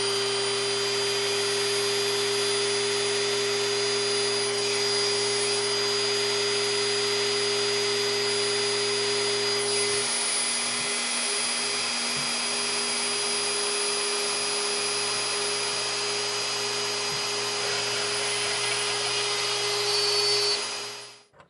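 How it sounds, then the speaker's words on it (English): Small drill boring a hole in stone for a stone butterfly craft, a continuous high whine with a steady hum, close and loud, running alone for about twenty seconds before stopping. "And then I just drill a little hole in it."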